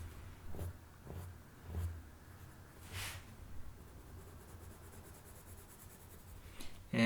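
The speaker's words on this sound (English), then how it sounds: "I've got some shadow that I need to add, like so. Again, really low angle on the pencil." A pencil held at a very low angle shades a drawing of a Stormtrooper helmet on paper. It makes soft, close rubbing strokes in irregular bursts, fairly quiet, with a small clunk at the end.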